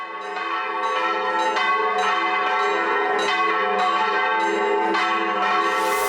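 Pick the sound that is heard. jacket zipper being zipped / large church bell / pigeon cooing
large church bell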